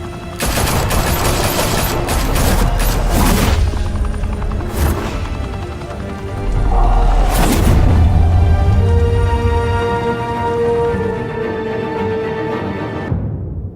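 Loud bursts of automatic gunfire in Batman The Telltale Series, layered with sharp shots and booms over a dramatic score that fades out at the end.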